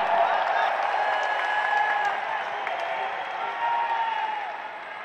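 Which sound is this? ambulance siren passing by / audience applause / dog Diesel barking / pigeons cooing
audience applause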